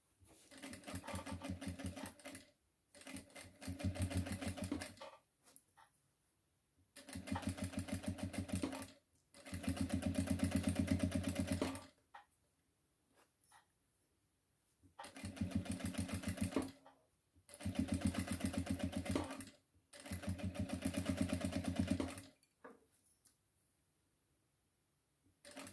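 A sewing machine stitches binding onto a fabric placemat in bursts. Six or seven loud, close runs of rapid stitching, each a few seconds long, are separated by near-silent pauses.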